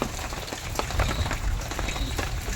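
Heavy rain pours outside in a dense, continuous patter of drops, loud and close throughout.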